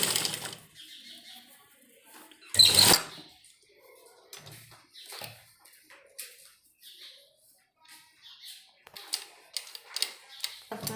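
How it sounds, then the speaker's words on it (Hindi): A sewing machine stitches a seam on a maxi dress in short, intermittent runs, with one loud whirring burst early on and a rapid patter of stitching near the end, separated by quiet pauses. "दोनों बाजू पर हम नीचे की तरफ सिलाई लगा लेंगे"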